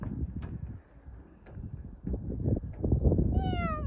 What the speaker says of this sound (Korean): 저기 밑에 블랙 고양이, 블랙캣이 있어